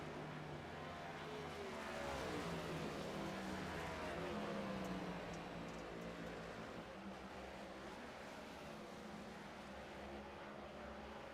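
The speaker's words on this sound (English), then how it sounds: "As Brandon Redford in that 47 car slides around." A NASCAR race car in the iRacing Clash at Bristol Dirt slides through a turn, its engine a loud sustained roar that swells and sweeps in pitch over a dense wash of track noise.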